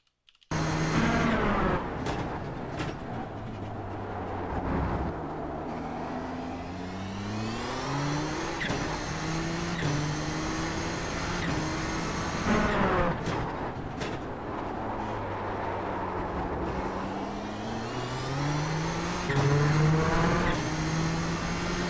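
A Nissan GTP ZX-T prototype laps Donington Park in iRacing at full throttle, its engine whining loud and close as it climbs through the revs. Sharp gear changes and brief lifts break the sound between rising pulls.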